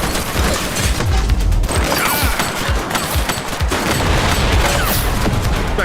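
A police shootout in the game The Precinct erupts into dense, continuous gunfire, loud and near, with overlapping shots, thuds and impacts rattling across the scene without a break.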